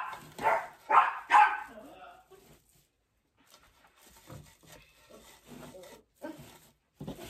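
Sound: dogs barking

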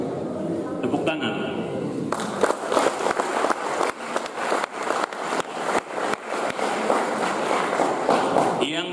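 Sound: audience applause

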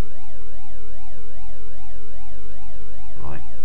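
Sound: police car sirens in Amstrad CPC game Chicago 90

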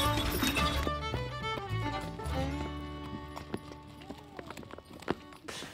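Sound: horses pulling a stagecoach on a road

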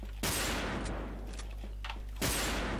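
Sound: gunfire from a Zaitsev-style gun in video game Wolfteam

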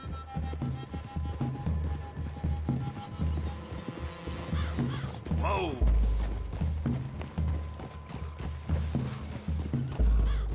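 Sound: horses walking, hooves, in video game Red Dead Redemption 2

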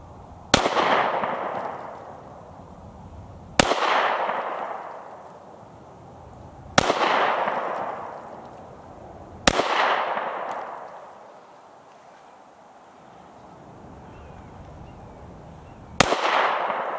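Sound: Mossberg MC1sc pistol shots at the range

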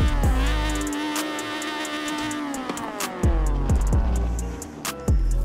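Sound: 2004 Honda Civic Type R naturally aspirated engine, Forza Horizon 4 video game

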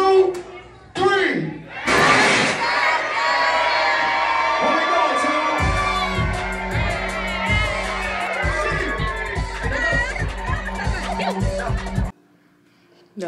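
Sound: crowd screaming happy birthday

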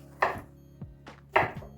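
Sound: knife chopping zucchini

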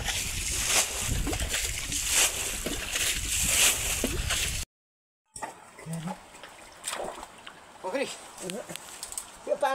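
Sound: water being bailed out of stream for fishing

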